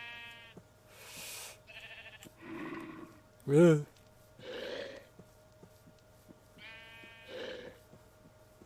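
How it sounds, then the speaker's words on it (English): Sheep in the Minecraft video game bleat several times in short game-sound bursts, spaced a second or two apart, with a player briefly grunting and other faint game noises between calls. "Come on, sheep."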